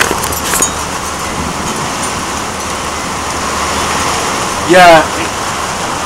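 Heavy rain pours steadily through a storm, with nearby voices briefly calling out over the constant hiss of the downpour and a short vocal whoop near the end.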